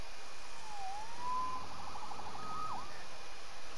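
Police siren in Marvel's Spider-Man video game, a faint, distant wailing tone rising and falling a few times over steady city background noise.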